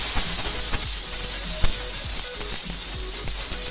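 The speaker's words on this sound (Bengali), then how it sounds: "এবার আমি ওই তেলেই 2টো মাঝারি মাপের পেঁয়াজ কুচি দিয়ে দিলাম।" Two chopped medium onions hit hot oil left over from frying eggs, giving a steady, close sizzling hiss with occasional crackles and light stirring ticks throughout.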